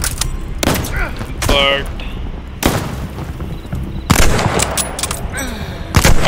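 Short-range gun fired in Call of Duty Vanguard, loud sharp reports in separated bursts with thudding booms between, close up, while a voice speaks briefly.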